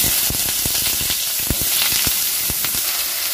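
Small square pieces of brinjal fry in hot mustard oil in a kadai, giving a loud, steady sizzle with brief sharp pops and crackles scattered throughout, close and without talk.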